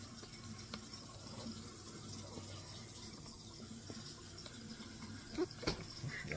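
Tap water runs steadily into a kitchen sink to make dish water, a quiet continuous wash of flow with a few small clinks and knocks near the end.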